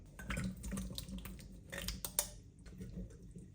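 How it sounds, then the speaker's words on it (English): Liquid splashes and gurgles as a jar of red kidney beans is tipped and drained, short uneven pours and drips close by in a kitchen. "I found a jar of red kidney beans. So I'm just going to quickly drain this out."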